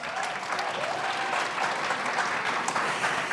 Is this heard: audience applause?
yes